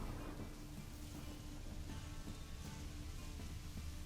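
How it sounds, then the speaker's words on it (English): Steady, dense rain hiss from a rainstorm in the video game Witcher 3 fills the clip, with a low rumbling bed beneath and no voices, the downpour continuous and fairly loud throughout. "A storm, damn it."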